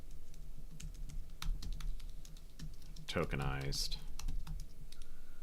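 Computer keyboard typing with quick irregular key clicks throughout, heard while someone works through a programming demo on lexical analysis and parsing; a short spoken word cuts in partway.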